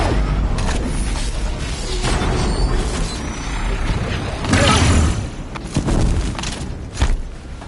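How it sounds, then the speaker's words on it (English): In the Horizon Zero Dawn video game, heavy booming explosions and thuds roll through a loud, dense battle scene, with a sharp burst midway and more impacts after it. "Another explosion."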